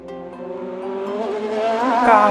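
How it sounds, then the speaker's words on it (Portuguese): Car accelerating hard with tires squealing, the engine note climbing steadily and growing louder toward a sharp, shrill skid at the end. "Carro, carro."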